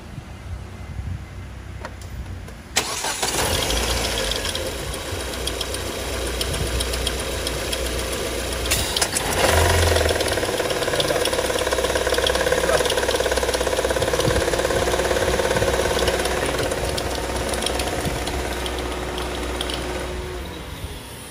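A car engine idles steadily with the air conditioning compressor's magnetic clutch engaged, a loud continuous drone and knocking hum lasting throughout after a sharp click near the start, with no speech over it.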